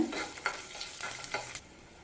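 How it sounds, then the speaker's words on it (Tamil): Ten garlic cloves and a small piece of cut ginger sauté in oil in a pan: a faint, steady sizzle broken by several soft stirring scrapes, close by, no talking. "இப்போ இதில் பத்து பல் பூண்டை சேர்த்துக்கோங்க அது கூடவே ஒரு சின்ன துண்டு இஞ்சை கட் பண்ணி சேர்த்துக்கோங்க அந்த எண்ணெயில் லேஸாக வதக்கி விட்டுக்கோங்க"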